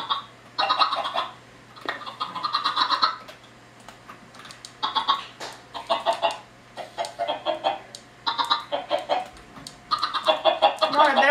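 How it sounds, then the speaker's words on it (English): Chickens in a LAN server video game, bursts of clucking and squawking in uneven clusters, with computer keyboard typing clattering alongside. "Come on, I better get this chicken thing ready."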